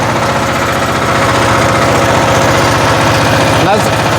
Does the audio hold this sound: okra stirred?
no